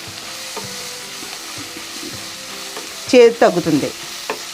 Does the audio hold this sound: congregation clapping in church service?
no